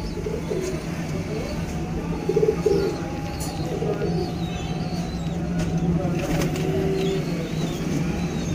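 Soft cooing of pigeons repeats a few times against a steady outdoor background hum, fairly close and moderately quiet.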